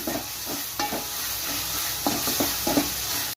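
Onions and tomatoes with salt sauté in a pan for a yam curry, giving a steady close sizzle broken by several sharp spatula scrapes and stirring knocks, with no talking.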